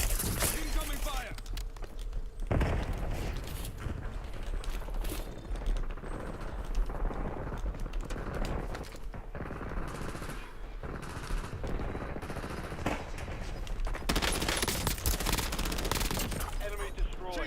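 Rapid bursts of automatic machine gun fire in the video game Black Ops 7, loud and repeated across the stretch, with a game voice calling out over the shooting.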